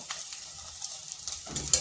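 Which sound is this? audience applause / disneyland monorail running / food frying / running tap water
food frying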